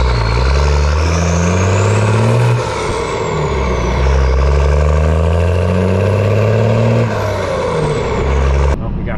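1995 Dodge Cummins second-generation truck with P-pump diesel and NV4500 manual gearbox driving hard, loud close engine roar rising through gears in repeated revving pulls, with a brief hiss near the end.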